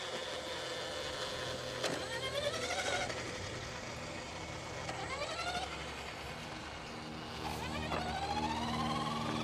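A car approaches along a road, a faint, rising motor hum with a few whining sweeps, heard from a distance against quiet outdoor surroundings.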